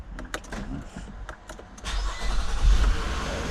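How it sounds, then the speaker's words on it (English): A 2017 Infiniti QX60 starts inside a garage: a few clicks and taps come first, then the engine cranks and catches into a low, steady idle close by. "make sure the engine starts"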